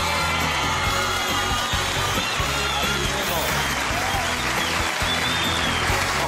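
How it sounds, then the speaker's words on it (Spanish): A television studio audience gives loud, sustained applause for Sebastián Caicedo, with steady clapping, cheering, and music-like tones running through the noise. "Un aplauso fuerte para Sebastián Caicedo."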